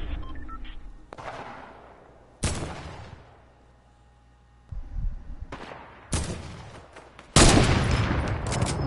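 Video-game gunfire crackles in several separate bursts, some distant and faint, others close and loud, the final volley being the strongest and most sustained.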